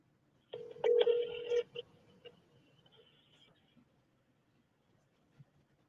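A telephone call is placed, with a short burst of tones near the start followed by a faint lingering tone and quiet background.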